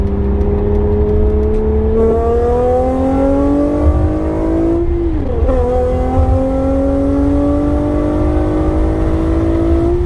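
A car engine revs continuously, its pitch climbing steadily as it accelerates, dipping briefly at a shift before rising again, loud and close.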